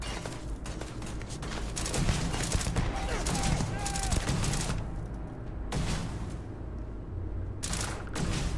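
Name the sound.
Vampire's Gift weapon gunfire in video game Starfield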